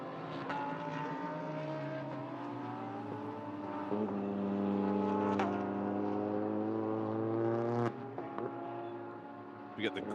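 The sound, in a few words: GT3 race cars' engines at night, Sepang 12 Hours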